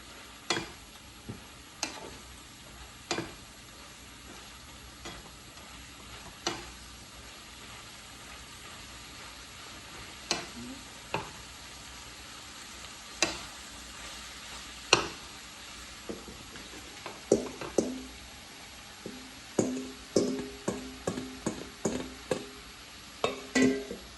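Ingredients for egg roll in a bowl stirred in a pan, a quiet continuous sizzle punctuated by sharp utensil knocks and scrapes that become quicker and more frequent toward the end.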